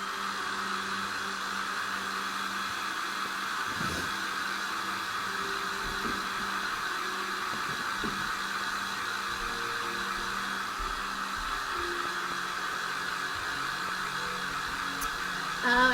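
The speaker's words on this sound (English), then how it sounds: "Let me just hit it with a hair dryer." A hair dryer blows in a steady, unbroken whoosh for the whole stretch, with a few faint knocks and thumps in the background.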